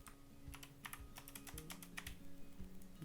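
A computer keyboard is used to type a payment number and password, giving a quick, irregular string of close, crisp key clicks over a low hum.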